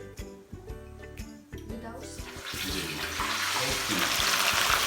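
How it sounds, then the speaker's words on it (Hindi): Fish pieces with spice coating dropped into hot oil, a few clatters and knocks giving way to a loud, steady sizzle that builds and holds, with a voice talking faintly at the start. "ये लीजिए हमारा ऑयल गर्म हो गया। अब इसमें हम डालेंगे अपने फिश के पीस।"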